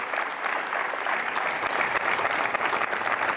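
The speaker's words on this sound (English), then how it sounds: "please give a special applause for Magali" An audience at a conference gives a dense, steady round of applause for Magali, loud and continuous from start to finish with no talking.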